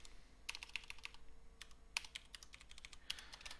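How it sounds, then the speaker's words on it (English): Close, quiet clicking of a computer keyboard as code is typed, keystrokes coming in uneven clusters with short pauses between. "Can't type today for some reason."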